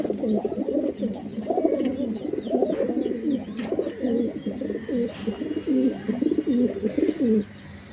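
Pigeons coo steadily in a loft, their soft throaty calls overlapping in a continuous murmur close by, with no talking.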